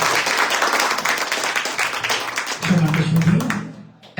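An audience at an IELTS academy certificate ceremony claps in a sustained round of applause that fades toward the end, with some talking mixed in.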